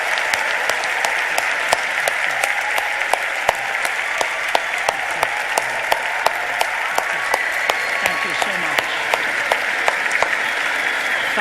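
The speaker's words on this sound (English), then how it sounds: "But can we please, one more time, give Dr. Ravi Zacharias and Vince Vitale some applause." Steady, sustained audience applause at an evening lecture event honoring Ravi Zacharias and Vince Vitale, many hands clapping evenly and continuously at close range with no voices over it.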